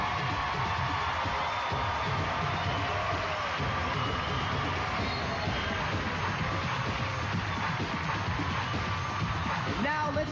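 Audience cheering and crowd noise at the 1996 Miss Teen USA pageant, a steady, dense roar of many voices that fills the whole stretch without pause.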